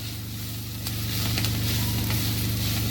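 Onions, green and dry chillies, turmeric, asafoetida and ginger-garlic paste fry in a pan with a steady, close, even sizzle that swells slightly partway through, with no voices.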